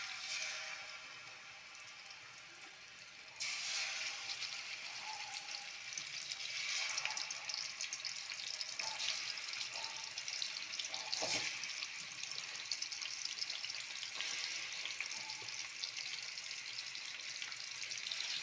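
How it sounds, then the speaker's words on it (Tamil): Fish frying in a pan during home cooking: a steady, fairly loud sizzle sets in after a few quiet seconds and carries on continuously with faint crackles and light kitchen clatter, no voices. "மீன் ஃப்ரை பண்ண போகிறேன்."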